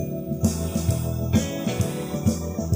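Recorded music plays after noise reduction that removed part of the hiss. A steady beat and bass line carry through, dull and muffled as if heard through a wall. A light hiss remains in the background, and there is no talking.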